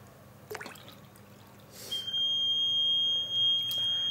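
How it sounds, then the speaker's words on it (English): A DIY water level indicator's buzzer sounds once water fills a bowl to its top level: a steady, shrill electronic tone starting midway and holding, after a few faint splashes and drips. "as the water has reached to its farthest level, the buzzer with its last LED lights up"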